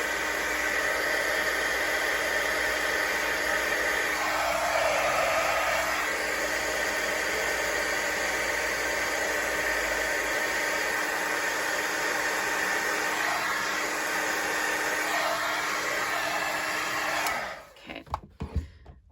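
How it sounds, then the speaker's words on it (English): A steady, loud blowing hiss of a heat embossing gun runs nonstop for about seventeen seconds, then cuts off into a few soft clicks. "So I'm just going to turn on the embossing gun, so it's going to get just a little bit noisy."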